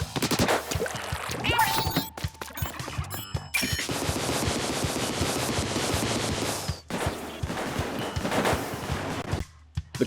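The H3 Nozzlenose in Splatoon 2 fires steady, rapid rattling bursts of ink, with a wet, splattering edge. The shots run nearly continuously for several seconds, with only short pauses.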